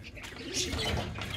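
Pigeons in a coop give soft cooing and chirping calls that blend into a close, continuous wash of bird sound, with no talking.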